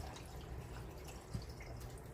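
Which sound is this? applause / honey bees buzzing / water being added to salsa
water being added to salsa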